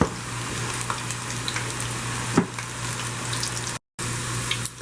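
Banana slices for Jamaican chippies fry in oil, a steady close sizzling and crackling hiss throughout, with a brief stir sound midway and a momentary dropout near the end.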